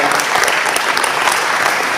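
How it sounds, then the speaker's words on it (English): Audience applause at a club day meeting for the catering committee, a dense steady patter of many hands clapping at close range throughout, with no talk over it. "Just give them a giant round of applause."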